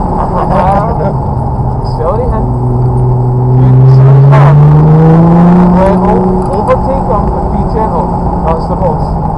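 A Nissan GTR accelerates hard at Ingleston, its engine note climbing in pitch and loudness and peaking near the middle while a person talks over it nearby.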